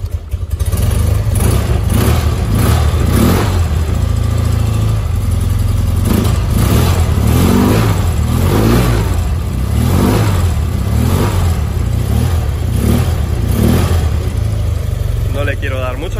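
Cold BMW R100RS motorcycle engine idling loudly up close, revved repeatedly in short swells with a rough, throaty rumble; a voice speaks at times.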